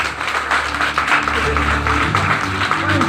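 An audience claps in applause at a New Year celebration show, a dense, steady patter of many hands mixed with crowd noise and talk, fairly close and sustained.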